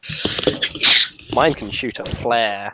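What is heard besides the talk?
sneeze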